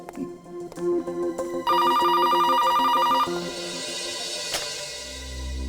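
A telephone rings with a steady electronic trill for a couple of seconds, set against background music and ambient sound, then the ringing stops.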